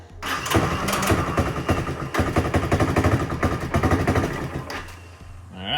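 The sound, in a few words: engine of 1984 ATC 200M three-wheeler starting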